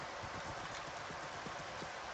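Horse hooves galloping in Minecraft, a quick, faint clip-clop rhythm repeating over steady background noise.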